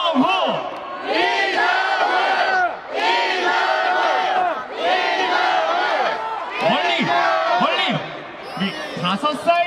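A baseball stadium crowd roars and cheers in several loud, sustained bursts, with many voices shouting together and short dips between waves.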